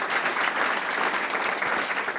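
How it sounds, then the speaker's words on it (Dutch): Steady, dense applause from an audience at a Dutch book presentation fills the moment from start to finish, loud and continuous with no talking on top. "Applaus voor jou."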